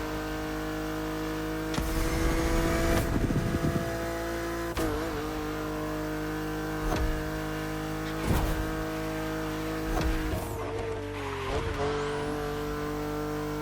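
A racing car in The Crew Motorfest, a video game, drones at high revs through a long run, with a few louder bursts and sharp transients along the way.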